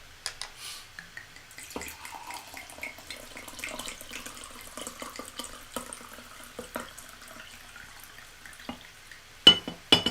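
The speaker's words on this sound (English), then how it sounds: "Did you hear the glugging sound of a wine pouring into the glass?" Wine poured into a glass, trickling and glugging in uneven bursts close by, with faint clinks, alone and fairly quiet.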